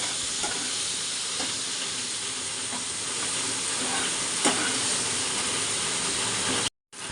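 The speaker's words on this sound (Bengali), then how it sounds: "চলো এখন এটা দিয়ে দিই। এটা দিয়ে আমি বেশ কিছুক্ষণ একটু কষিয়ে নেব।" Ground cumin, coriander and turmeric sizzling and frying in a hot pan, a steady broadband hiss that runs continuously for several seconds with a few faint stirring clicks, then cuts off briefly near the end.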